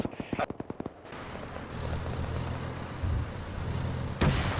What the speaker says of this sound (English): Oh god, they're already firing at me.